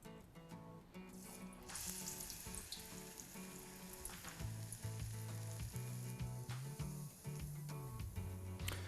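Steady, loud sizzling and crackling of waffle-cut potato wafers deep-frying in hot oil, with occasional clinks and stirring underneath, continuous throughout.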